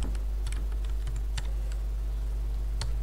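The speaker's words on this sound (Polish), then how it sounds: "W pasku adresu wpisujemy sobie adres strony internetowej Infotelekom." A web address is typed on a computer keyboard in quick, uneven bursts of light key clicks over a steady low hum, close and clear with no talk.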